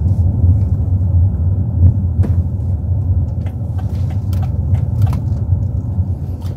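A Rolls-Royce Ghost drives through a corner, heard from inside as a steady deep low rumble of road and engine noise, loud and constant, with a few faint clicks and no talking.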